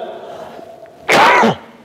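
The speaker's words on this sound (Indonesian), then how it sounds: "Mohon maaf, saya batuknya lagi asyik" A single sharp, loud cough bursts out from a man delivering a religious sermon, briefly breaking a quieter stretch of room sound.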